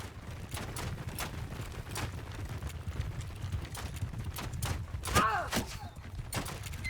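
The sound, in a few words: horse archers' horses galloping, video game Mount & Blade II: Bannerlord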